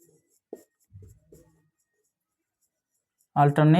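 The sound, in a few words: writing on paper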